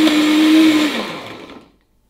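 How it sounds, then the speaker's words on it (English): A blender grinds dates with a loud, strained whirring motor that drones steadily, then dips in pitch and winds down to silence. "this one is like barely getting through the dates"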